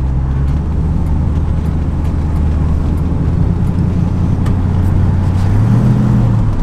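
A 1964 Ford Falcon Sprint heard from inside while driving, its engine a steady, loud low drone with road rumble that lifts slightly in pitch toward the end.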